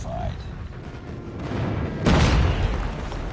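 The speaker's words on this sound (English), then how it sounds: "Friendly airstrike incoming." A friendly airstrike lands in a multiplayer war shooter game: a single heavy boom bursts out about two-thirds of the way through and rumbles on loudly over constant low battlefield noise.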